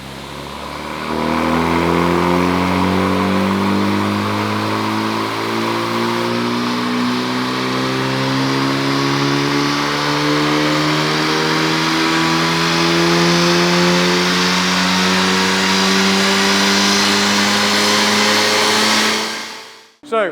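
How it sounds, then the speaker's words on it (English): A Honda Civic FL5 strapped to a dyno for a benchmark run with its stock airbox, the engine revving steadily upward in one long, loud, close pull of about eighteen seconds before cutting off abruptly. "So the car's now strapped to the dyno."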